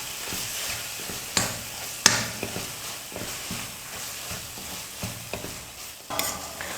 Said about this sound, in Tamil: ஸ்டவ்வை மீடியம் ஃப்ளேமில் வச்சுட்டே நீங்கள் குறைஞ்சது ஒரு 3 நிமிஷமாவது நல்லா வதக்கணும்